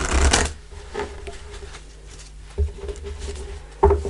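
Tarot reading cards are shuffled by hand nearby in crisp, papery riffles and taps, a burst at the start and more shuffles later, with quiet handling between them and no talking.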